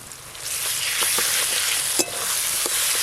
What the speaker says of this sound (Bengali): আমের সঙ্গে এই মশলাগুলো একটু ভালো করে কষে নেব